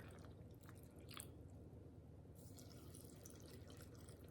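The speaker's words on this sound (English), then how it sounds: "So now I'm just going to pour some hot water right into my jars, and I'm going to fill it up to the 1-inch mark" Hot water is poured into glass canning jars for sauerkraut, a steady low watery rush with light splashing and a few brief clinks, continuous and fairly faint throughout.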